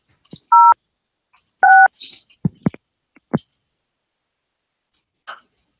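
Telephone keypad dialing tones on a phone line, two clear DTMF beeps about a second apart, mixed with brief throat noises and small clicks, then near silence.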